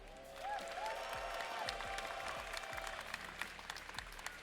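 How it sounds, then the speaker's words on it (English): A crowd at a fighting game tournament, the 2XKO top 8 at Combo Breaker 2026, claps steadily in sustained applause that fills the room, with a few shouts and cheers rising above it. "Can you guys make some noise for Globo up there?"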